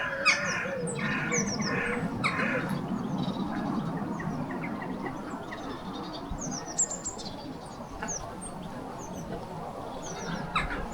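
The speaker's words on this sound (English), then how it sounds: "It's a magpie." A magpie gives harsh chattering calls from a distance, repeated in brief bursts over a busy outdoor background of rustling and other small birds chirping.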